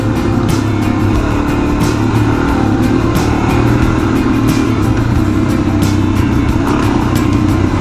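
A dual sport motorcycle engine drones steadily and loudly while riding Southern California back roads, with continuous wind buffeting and no talk.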